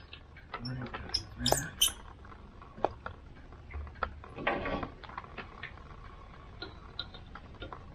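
Lug nuts threaded by hand onto a lawn care business trailer wheel give faint, irregular metallic ticks and clicks spread across the stretch, with quiet background noise and a few louder knocks.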